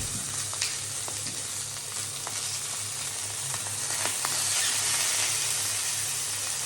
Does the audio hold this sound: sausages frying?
yes